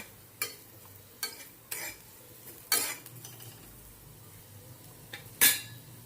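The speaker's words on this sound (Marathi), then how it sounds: "दोन चमचे शेंगदाण्याचा कूट ते आपण छान एकत्र करून घेऊया" A spoon stirs ground roasted peanut powder into vegetables cooking in a pan, giving a handful of sharp scrapes and clinks against the metal spaced a second or so apart over a faint, low sizzle.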